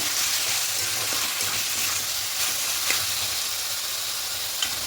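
Chicken cooking down in a covered pan for chicken mince pulao, giving a steady, close broadband sizzle with faint scattered crackles and no voices.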